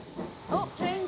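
A heritage steam train pulling into a busy station, with short bursts of hissing steam and a faint whistle-like tone, brief and moderately close.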